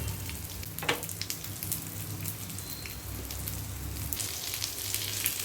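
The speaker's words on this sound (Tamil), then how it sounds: "எண்ணெய் நல்லா சூடு வந்துருச்சு இப்போ நம்ம அதையும் நம்ம தாளிச்சுக்கலாம் ஒரு சின்ன துண்டு பட்டை ஒரு சின்ன பிரியாணி இலை ரெண்டு கிராம்பு" Whole cinnamon, bay leaf and cloves crackle and sizzle as they fry in hot oil for a vegetarian liver-style fry, a steady close spitting hiss with a few sharper pops, no voices.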